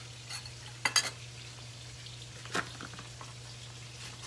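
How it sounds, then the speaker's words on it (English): Pork chops fry in a pan for a budget Sunday dinner, a quiet steady sizzle under a low hum, broken by a few sharp utensil clinks, close by with no talk. "while our pork chops are frying"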